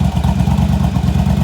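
A warmed-up motorcycle engine, back running after sitting unused for a year, idles loud and close with a steady, even throbbing beat and a slight clatter.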